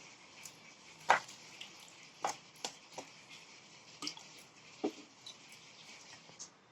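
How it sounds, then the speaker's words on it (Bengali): Batter being mixed by hand with a little water in a bowl, quiet wet squelches and drips at irregular intervals over soft background hiss. "এবারে আমি একটু জল দিয়ে দেখো গুলিয়ে নেবো।"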